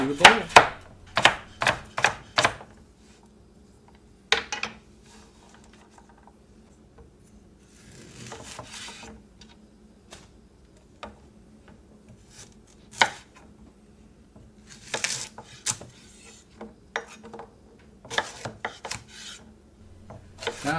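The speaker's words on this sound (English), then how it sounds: "we're going to add the carrots, and I'm going to take those and I'm going to slice them in half, and then I'm going to chop them up" A knife chops carrots on a cutting board for minestrone soup, with quick bursts of sharp close taps separated by quiet pauses and occasional softer scraping.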